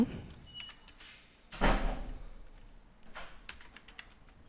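Typing on a computer keyboard, scattered light key clicks with one louder clattering burst near the middle, close and otherwise quiet.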